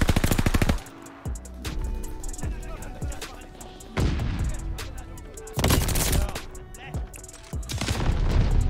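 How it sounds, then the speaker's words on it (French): DP27 light machine gun fired in a video game: loud rapid full-auto bursts in several strings separated by brief pauses, with someone talking between and over them. "cette batteuse, la DP27, honteuse, hein, très très peu de recul, énormément de puissance"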